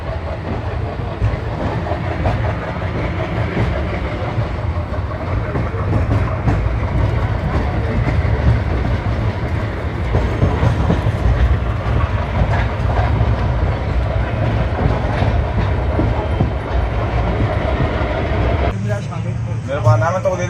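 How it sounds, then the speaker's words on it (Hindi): Ashram Express passenger train rolling into Palanpur station, a loud steady low rumble with rail clatter throughout, with people talking nearby. "ये ट्रेन हमें पूरे 5 मिनट बिफोर पहुंचाई है"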